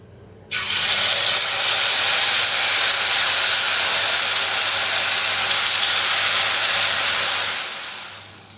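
Cauliflower dropped into hot oil for Gobi 65 bursts into a loud, steady hissing sizzle that starts abruptly and then fades slightly toward the end, with no talk.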